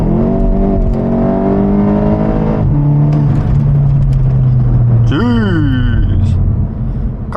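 A tuned MK7 Volkswagen GTI running 24 PSI of boost accelerates hard through the gears, engine pitch climbing, dropping at each shift, then a sharp high whine and a final shift before the revs fall away; loud and close.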